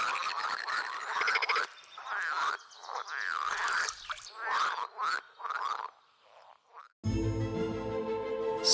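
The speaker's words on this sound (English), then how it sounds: "emitting a distinctive mating voice in clusters, commonly known as the croak" Frogs croak mating calls in dense, warbling clusters using inflated vocal sacs, loud and close, with a sudden shift to a different harsh, buzzing chorus near the end.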